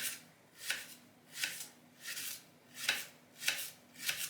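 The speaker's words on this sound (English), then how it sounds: "next I'm just going to cut the leek" A knife slices through a leek on a board, six crisp, evenly spaced cuts at a steady rhythm, close and fairly quiet with no talking.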